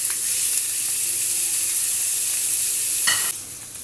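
Chicken mince sizzling steadily in an oiled pan on a stovetop, with a loud continuous fry hiss and occasional scrapes of stirring, no voices.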